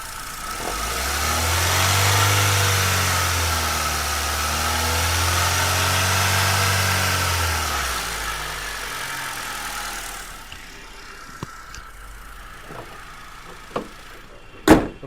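A 2010 Hyundai i10 petrol automatic, recorded close to the engine, revs up and falls back twice in smooth rising and sinking swells. It then settles into a quieter idle broken by a few sharp clicks.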